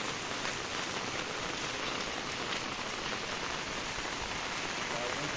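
Rain pours down in a windy storm on a walk toward Mandangad. The downpour is a steady, dense hiss that stays unbroken throughout, and no one speaks.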